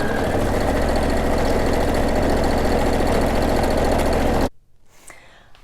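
A sewing machine stitching Velcro onto a fabric sink skirt, a loud, close, steady mechanical rattle and hum that cuts off abruptly near the end, leaving near silence.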